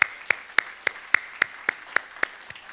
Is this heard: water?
no